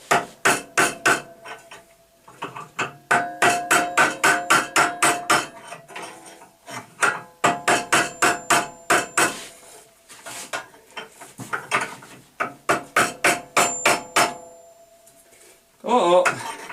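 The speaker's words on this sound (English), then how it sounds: "Let's get a kind of a soft-faced hammer here. Let's see if we can drive these bearings out." A soft-faced hammer strikes repeatedly to drive bearings out of a 724 Ringmaster machine, sharp close knocks in quick bursts with short pauses between groups, ending in a brief clattering sound.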